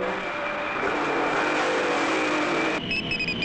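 The Spider Machine GP-7 car revs its engine in a loud, continuous roaring rush that cuts off near the end, where a brief beeping tone follows.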